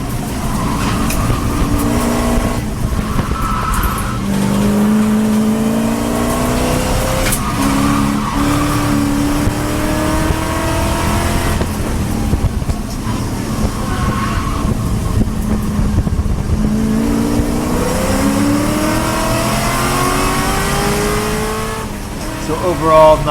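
A race car slides through a high-speed chicane at the Podium Club track, its engine revving and dropping through gear changes with rising and falling pitch sweeps, loud and close, with a voice talking over it.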